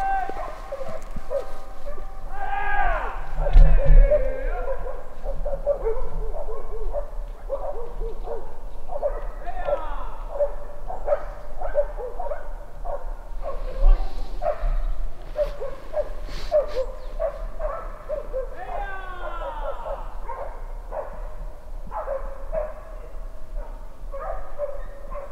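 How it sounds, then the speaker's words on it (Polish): Hunting dogs barking and yelping at wild boars during a driven hunt in the Sudeten mountains, a busy chorus of overlapping barks and yips at middle distance, continuing throughout with occasional human voices mixed in. "Podkładacze walczą i psy z dzikami."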